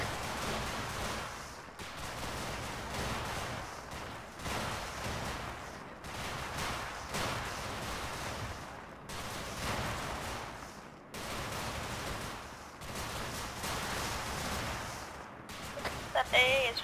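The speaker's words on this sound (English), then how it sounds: "Gunfire's pretty loud" Dense gunfire in the military video game Arma 3 with the OPTRE mod: rapid overlapping bursts and volleys in repeated waves, loud and continuous across the whole stretch.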